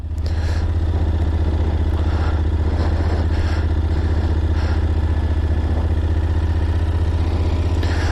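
A Kawasaki GTR motorcycle is ridden slowly with clutch and throttle held steady, its engine giving a loud, close, constant low rumble with a mechanical clatter on top and only slight shifts in pitch, no talking.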